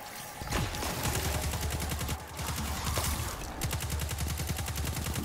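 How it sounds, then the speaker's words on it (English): Rapid, sustained auto rifle fire in the shooter Destiny 2, a steady rattling stream of shots with brief pauses, loud and close throughout. "you have to constantly shoot him with an auto rifle"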